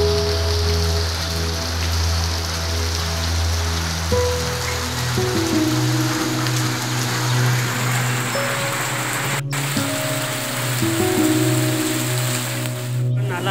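Steady rain falls across a hillside in Uttarakhand as a swollen mountain stream rushes nearby, a dense continuous wash of water noise with no voices.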